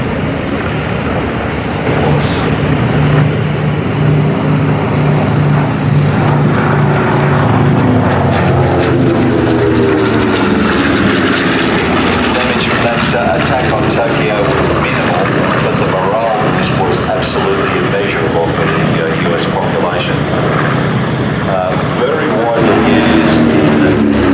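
A propeller warplane flies past at the Flying Legends airshow at Duxford, its engine drone continuous and strong, swelling and shifting in pitch as it passes nearby.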